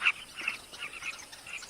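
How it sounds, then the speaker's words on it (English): Carmine bee-eaters call from perches, giving short high chirps that repeat every fraction of a second, fairly faint over quiet background. "Carmine bee-eaters, named for their favorite prey, gather on nearby perches."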